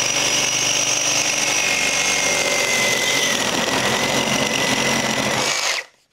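A Milwaukee M18 FUEL cordless Super Sawzall with a carbide blade saws through pipe in a loud, steady, close-up rasping whine that runs for about six seconds and then cuts off abruptly.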